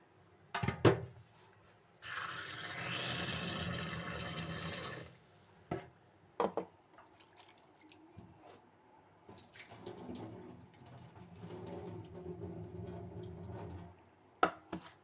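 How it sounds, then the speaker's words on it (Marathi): Running water pours steadily from a tap for a few seconds over raw chicken being washed, framed by clattering and handling sounds, then quieter splashing and rinsing. "आता चिकन हे आणलेलं धुवून घेणार आहे"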